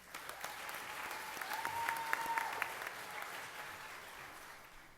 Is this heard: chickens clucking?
no